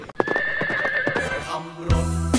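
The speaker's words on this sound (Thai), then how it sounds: "วันนี้เราขี่ม้ามาที่วัดเลยนะฮะ" A horse whinnies loudly and close by, a long shaking neigh with a falling tail, followed by a deeper snort-like call near the end, with no talk over it.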